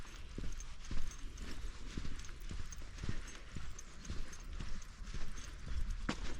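Ponies on Knettishall Heath in Suffolk, their hooves clip-clopping in a steady walking rhythm at moderate distance over a constant outdoor background hiss, with no talk.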